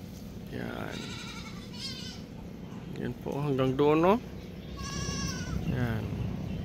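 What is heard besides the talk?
goats bleating while waiting for fodder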